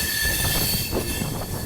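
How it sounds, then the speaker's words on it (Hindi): Aboard the Swarna Jayanti Express in Jharkhand, the train switches onto a third line with loud, continuous rolling rumble, wheel squeal and rattling of the carriages. "तो अब हमारी ट्रेन आ गई है 3rd लाइन पे"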